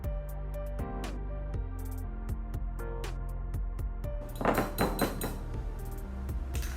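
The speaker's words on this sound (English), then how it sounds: "next thing I'm going to do is mix 2 eggs" A utensil clinks rapidly against a bowl as two eggs are beaten for banana-oatmeal muffins, a close, bright clatter of quick taps and rings, with a busier burst of clinking near the end.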